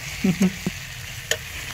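Desi chicken fries hard in a kadai of masala, a steady sizzle broken by a few sharp scraping knocks of the stirring spoon against the pan, close and loud with no talk.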